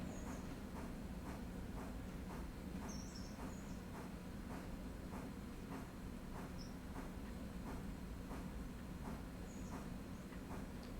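Steam train running in the railroad simulation game Railroader, a steady continuous low rumble with regular rhythmic chuffing pulses throughout, no voices.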